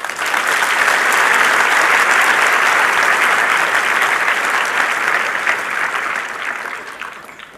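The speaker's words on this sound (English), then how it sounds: "please give a hand of applause to all the family and friends" A large crowd at a College of Medicine of South Africa ceremony gives sustained, thick applause that holds steady for several seconds before gradually thinning out, with no voices over it.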